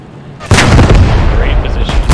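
Mortar rounds striking in a video game, a heavy booming blast that arrives suddenly and rumbles on with continuous loud, dense impacts and crackling.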